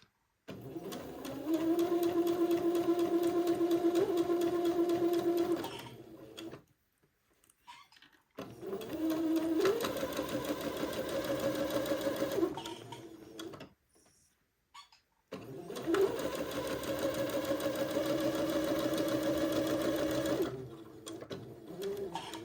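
A sewing machine stitches basting threads on a dress sleeve in three long steady runs of fast, even whirring, each lasting several seconds and separated by brief pauses. No one speaks.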